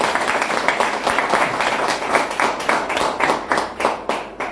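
A small group claps during a preparatory session of the Río Primero deliberative council, producing several seconds of close, uneven, pulsing hand claps without voices over them.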